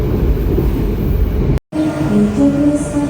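Steady loud rumble of a passenger train pulling into Royan station in Indonesia, broken by a brief dropout, then continuing with wheel and track noise and faint squealing tones as it slows.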